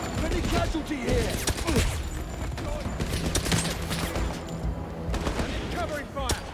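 Sustained automatic gunfire and rapid bursts in a 007 video game, dense and loud throughout, with shouted voices mixed in over the shooting.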